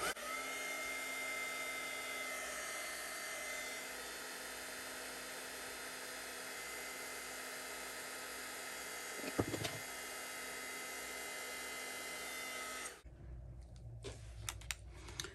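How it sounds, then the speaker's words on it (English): A handheld heat embossing tool blows steadily with a constant whining hum and airy rush for about thirteen seconds, near and even, with a brief knock partway through before it switches off, leaving faint clicks and handling noises. "I have my heat tool here, and I'm going to turn it on and heat emboss our sentiment"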